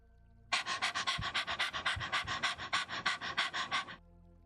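A small dog pants rapidly in a steady, close rhythm of about fourteen quick breaths, starting abruptly and stopping after roughly three and a half seconds, with no talking.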